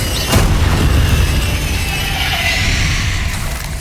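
A Bombarda spell explosion in Hogwarts Legacy, a sharp blast followed by a long, loud, rumbling wash of debris and crackle that slowly fades.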